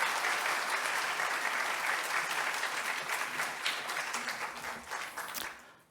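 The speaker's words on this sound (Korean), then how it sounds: "한번 박수 한번 격려해 주시기 바랍니다." A church congregation applauds, a dense, even roar of clapping from many people that holds steady, then thins and fades away near the end.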